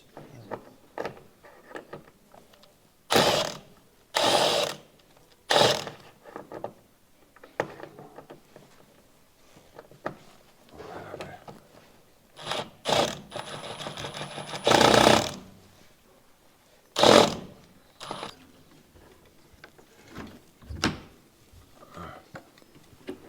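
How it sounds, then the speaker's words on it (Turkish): The last bolt of an office door hinge is unscrewed in a run of loud, short bursts of mechanical whirring, with quiet rattles and faint background voices between them. "Evet son cıvatayı da söküyoruz."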